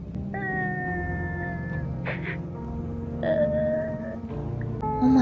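A cat crying inside the video game No, I'm Not a Human, heard as drawn-out, wavering meows that repeat over a low steady background hum, close and clear.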